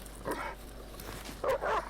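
A dog in the video game Deluge: Sermon for the Dead gives short, soft barks and yips over steady background noise, two brief bursts heard at moderate distance.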